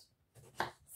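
A knife cuts through soft, foamy aubergine slices, giving one quiet, brief crunching chop against the board in an otherwise hushed kitchen.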